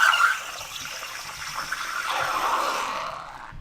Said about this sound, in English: you can hear there's actually a suction noise that's pulling some of that ice water back into the steam wand